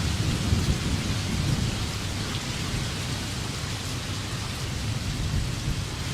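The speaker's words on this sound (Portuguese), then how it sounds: "Uma chuva, uma tempestade." Steady rain pours throughout, with a deep low rumble of thunder rolling underneath, broad and constant with no voices.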